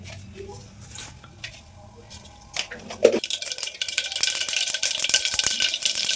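Mustard seeds crackle in hot oil for a sambar tempering, a quiet start giving way to dense, rapid, close-up popping and spattering that keeps going.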